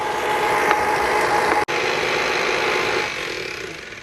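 An electric mixer runs on low speed, working cold butter into pie dough with a loud, even motor whir, briefly cutting out once and then continuing a little quieter.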